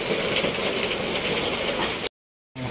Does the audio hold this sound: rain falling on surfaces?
yes